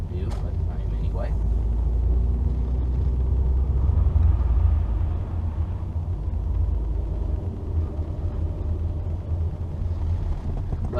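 A 1999 Volkswagen Beetle 2.0 GLS cutting through a parking lot, its engine a steady low rumble from inside the cabin with road noise, continuous and moderately loud with a voice talking over it.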